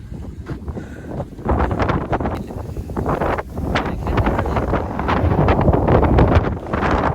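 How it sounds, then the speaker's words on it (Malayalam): Strong wind sweeps across the hilltop at Illikkal Kallu, buffeting the microphone in loud, gusty surges that rise and fall without pause. "ഈ സൈഡിൽ നിന്നാണ് നല്ല കാറ്റ് വീശുന്നത്."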